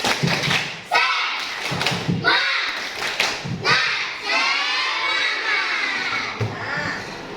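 Children in an Indonesian classroom perform the tepuk semangat clapping chant, rhythmic group claps and thuds mixed with shouted young voices, loud and close, in several bursts with brief pauses.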